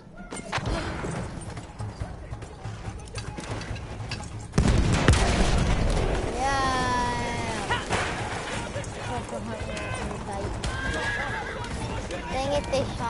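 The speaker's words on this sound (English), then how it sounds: "found a horse." A horse neighs with a long, wavering whinny in a PS4 video game, over a busy game soundscape of rumbling and clatter, with a voice talking underneath.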